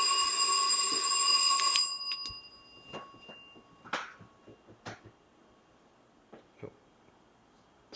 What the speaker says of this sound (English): Is that something connected to something, or is it a disembodied bell?